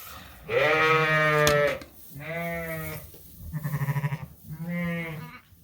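Lambs bleat in a lambing barn, four loud, drawn-out calls close by, one after another with short pauses, the third call wavering and trembling.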